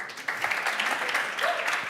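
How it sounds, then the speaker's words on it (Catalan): A crowd applauding steadily, a dense patter of many hands clapping with a few faint voices mixed in. "un fort aplaudiment per a Dolores."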